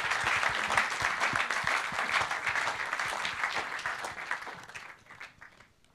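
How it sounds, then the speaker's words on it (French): Audience applause at a French sports review conference, a dense steady clapping that holds strong for several seconds, then thins and fades toward the end. "Vous pouvez les applaudir bien fort."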